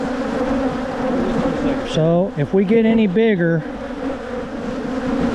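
Agitated honey bees swarm and buzz densely around hive frames during a honey extraction, a steady loud hum throughout, with someone talking briefly over it in the middle.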